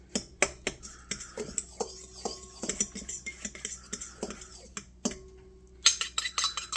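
Utensils clink and scrape against a bowl as powdered keto cookie ingredients are stirred, a quick irregular series of close taps and chinks with brief pauses, no voices.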